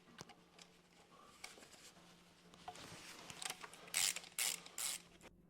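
A ratchet wrench clicks quietly while unscrewing the protective plate under a car's oil pan, soft irregular ratcheting building to a few louder, rapid bursts of pawl clicks near the end.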